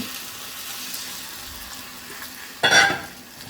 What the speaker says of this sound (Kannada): ಇವಾಗ ಇದಕ್ಕೆ ನಾನು ಮೊಟ್ಟೆನ ಹಾಕೊಂತ ಇದ್ದೀನಿ